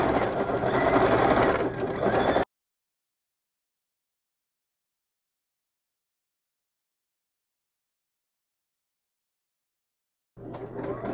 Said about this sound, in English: If you don't want to have tie-offs, you can just keep stitching around your top stitching.